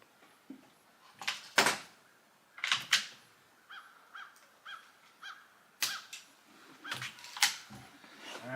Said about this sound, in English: we're going to see how many shots we can get on this Notos cylinder